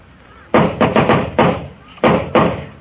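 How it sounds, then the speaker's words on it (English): Knocking on a door as a radio drama sound effect: two quick groups of firm knuckle raps, three or four blows each, close and crisp against a quiet background. "In a minute, he'll knock on that door."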